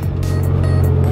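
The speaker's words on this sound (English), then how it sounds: "You're drifting." A car drifts and slides across snow around a curb and into a corner, its engine droning loudly and steadily throughout with a continuous low rumble and no distinct tire squeal.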